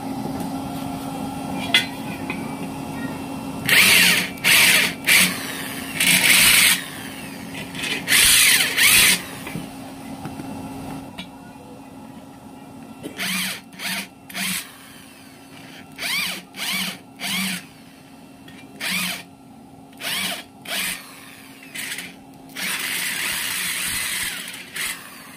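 A power drill chamfering screw holes in a used-oil stove tank, buzzing in many short, repeated bursts of varying length with a low steady hum underneath.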